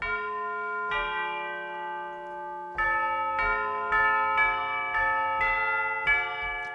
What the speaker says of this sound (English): Tubular bells. I use tubular bells a lot.